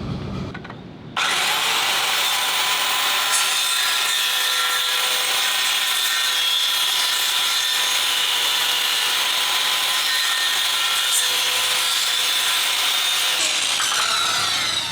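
Hand saw steadily cutting through old WWII-era German wood, run along a makeshift guide in a workshop; loud, continuous rasping strokes close by for about twelve seconds after a brief start, with no talking.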